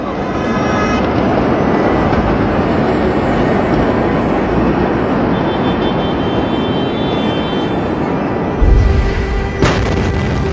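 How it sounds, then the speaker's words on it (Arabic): A massive explosion at the Beirut port produces a loud, sustained roaring rumble heard close by, a continuous wall of low noise that swells with a sharp boom near the end. "انفجار"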